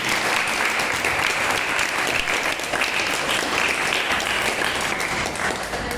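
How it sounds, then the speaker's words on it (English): Sustained applause from an audience at an interschool debate competition, steady and fairly loud clapping filling the whole stretch with no talk over it. "Please give a hand round of applause."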